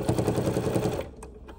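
A sewing machine stitches handles onto a steampunk fabric bag, a short fast rhythmic stitching burst close by that stops abruptly, followed by a couple of faint clicks.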